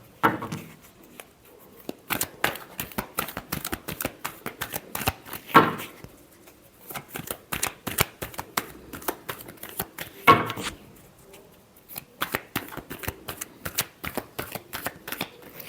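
A deck of tarot cards is shuffled up close, with repeated crisp riffles and sharp flicking bursts in quick runs separated by brief pauses, and no talking.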